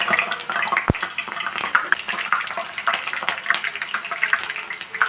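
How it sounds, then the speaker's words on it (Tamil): Garlic omapodi murukku frying in hot oil, a continuous dense crackling sizzle with bubbling texture and a single sharp click early on, heard without talk. "நல்லா முறுமுறுன்னு சீக்கிரமாக பொரிஞ்சிடும்"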